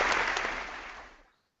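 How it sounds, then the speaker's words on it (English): A crowd applause sound effect: dense, loud clapping right from the start that fades steadily away and stops after about a second and a half. "I need to get the actual sound effect clapping in here"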